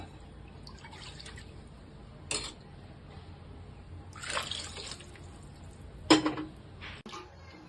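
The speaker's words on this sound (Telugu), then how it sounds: "వాటర్ పోసుకుంటున్నా" Water poured into a pot of buttermilk rasam with curd and coriander in a home kitchen: a few short, splashy pours and drips with light clinks of a pot, fairly quiet, with no talking.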